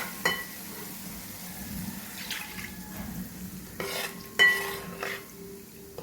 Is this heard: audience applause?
no